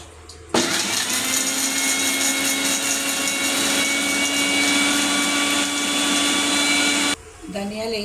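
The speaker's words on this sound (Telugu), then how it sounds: "మిక్సీ పట్టుకుని పులుసు పెడదామండి." An electric kitchen mixer grinder whirs loudly as it grinds a masala of garlic, ginger and poppy seeds for a taro-root pulusu, switching on abruptly and running in a steady high whine for about six seconds before cutting off.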